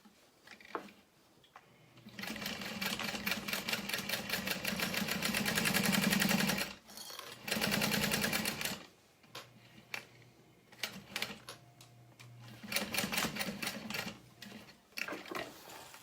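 An industrial sewing machine with a regular needle stitches leather for a clutch wallet, its fast rhythmic needle clatter running in long loud bursts with short pauses, then slower, lighter stitching.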